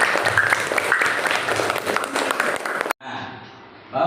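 Applause from a school classroom during a lesson, a dense patter of many hands clapping for about three seconds before cutting off abruptly, with faint room noise and a rising murmur afterward.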